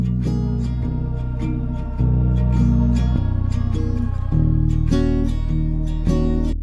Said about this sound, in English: And then I have a sound from the Mellotron plugin.